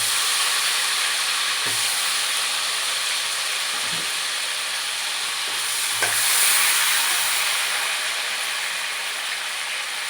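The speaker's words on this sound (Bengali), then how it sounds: "চিংড়ি মাছ ভাজা তেলে আমি আলুগুলো ভেজে নেব।" Potatoes fry in oil left over from frying prawns, producing a steady bright hiss and sizzle with a few soft thumps, close and continuous.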